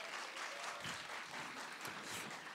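Faint, steady applause from an audience after a student's stage performance at a university online song festival, a continuous wash of many hands clapping in the distance.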